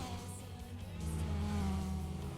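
Race cars including a BMW and a Peugeot 206 run down a straight in Gran Turismo 4, a continuous engine drone with a slight rise in pitch over a couple of seconds and no talk.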